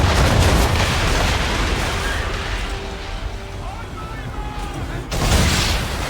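Ship cannons fire in an Assassin's Creed 3 naval battle, a sustained roar of booming blasts with a fresh burst near the end, heard up close throughout.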